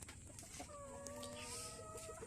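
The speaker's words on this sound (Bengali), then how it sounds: "এই যে দেখেন আমার এগুলো মানে আমার 100 পিস মুরগি আছে" Tiger chickens on a small farm of about a hundred birds cluck and chatter softly, one drawn-out call rising above the steady flock murmur at a moderate distance, with no talking.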